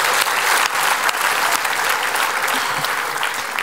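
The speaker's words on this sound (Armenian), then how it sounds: "բարձր ծափարենք սիրահարներին" A live audience applauds for lovers at a comedy show, a dense, steady burst of loud clapping that carries on evenly throughout.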